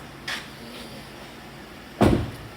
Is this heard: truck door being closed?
yes